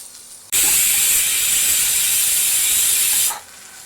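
Crushed ginger and garlic drop into hot coconut oil and set off a sudden loud, hissing sizzle. It holds steady for about three seconds, then cuts off sharply, with no talking.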